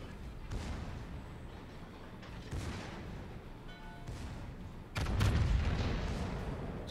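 Gunfire rattles through a match of the video game Kremlin, with repeated shots and booms over a steady rumbling din and a louder burst near the end.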